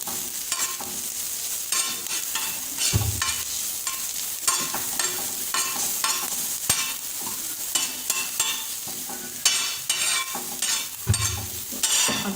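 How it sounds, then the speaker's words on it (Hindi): Beaten egg with crushed red chili and salt being whisked steadily in a bowl for a street-food omelet burger, a continuous scraping stir with rhythmic clinks and a faint sizzle behind it. "तो इसको हम अच्छे से मिक्स कर लेते हैं।"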